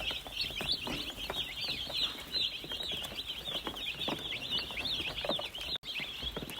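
A brood of baby chicks peeps continuously in a brooder set up in old repurposed water tanks, a dense close chorus of high chirps with no pauses.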